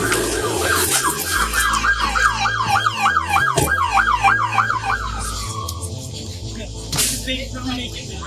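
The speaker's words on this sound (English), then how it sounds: "police and ambulances arrived" Emergency sirens from arriving police cars and ambulances, a loud wailing siren sweeping up and down rapidly for several seconds before trailing off, over street noise.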